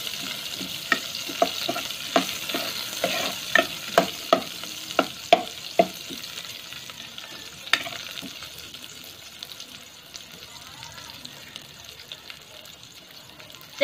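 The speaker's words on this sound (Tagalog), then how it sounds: "Gisa lang po muna natin na mabuti." Ingredients sautéing in a pan for fried fish sinigang: steady sizzling with a run of sharp, regular stirring scrapes and taps, then a softer continuous sizzle, close by with no talk.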